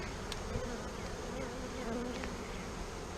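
Honey bees buzzing steadily around an open hive during an inspection, a dense continuous drone close by with no pauses.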